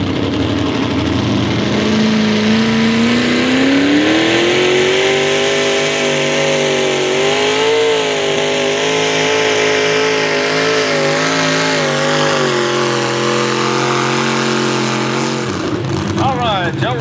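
A mini pulling tractor engine roars loud and sustained down the track at an Ardmore pull, its pitch climbing and then holding steady before cutting off near the end.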